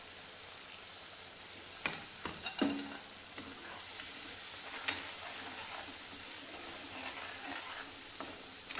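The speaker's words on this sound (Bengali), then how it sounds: "এবার মশলাটাকে একটু কষিয়ে নেব।" Ground spice paste frying in a pan, a constant soft sizzle and hiss with scattered scrapes and taps of a stirring spoon, close but fairly quiet, no talking.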